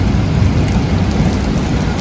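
Heavy rain pours down during a severe New Jersey thunderstorm with very strong winds, a loud, dense and steady roar of drops hitting surfaces close by, with no voices.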